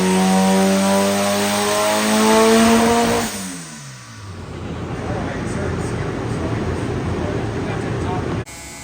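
A hot rod's engine revs loudly up close, a throaty rising roar that drops off abruptly, then settles into a rough, steady idle rumble before cutting out.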